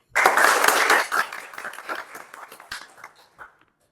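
A classroom of lecture attendees breaks into a burst of applause, dense at first and then thinning into scattered claps that fade out within a few seconds.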